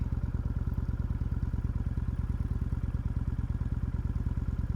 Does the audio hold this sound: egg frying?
no